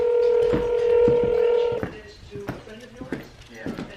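A telephone dialing a call: a steady tone followed by a quick run of short keypad beeps, close and clear, with voices talking over the dialing.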